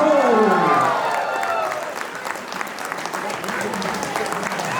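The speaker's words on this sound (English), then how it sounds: "Take a round of applause." Audience at a Durham Telugu Club Ugadi celebration in Canada bursting into applause and cheers for an arriving speaker, a dense clapping crowd that swells then settles into steady applause.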